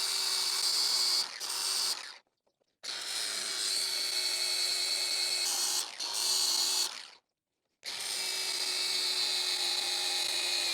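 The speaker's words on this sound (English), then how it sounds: "I switched back over to a regular grinding wheel." An angle grinder with a grinding wheel sharpens a zero-turn mower blade in three loud, harsh bursts of high whining grind, separated by brief silent pauses, with no talking.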